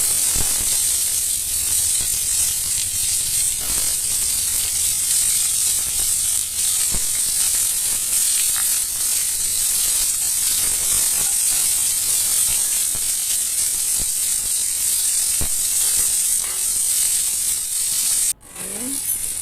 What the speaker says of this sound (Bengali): এখন আমি কাঁকরোলগুলো ভেজে নেব।